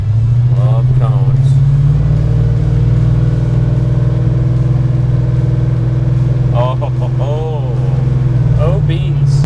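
A fuel-injected 496 engine in a 1972 Chevy Malibu runs with a steady, loud, deep rumble under partial throttle, with someone talking over it at the start and again near the end.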